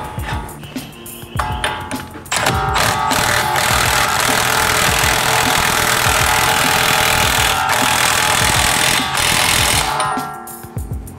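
A new hub nut spun onto the rear wheel hub of an Alfa Romeo GT JTS with a power tool, giving a loud, sustained rattling whir that stops and restarts, close by.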